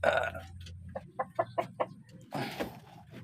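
A Rhode Island Red rooster with a cold and a watery eye gives a run of short, clipped clucks close by, then a louder, rougher burst of calling at the end.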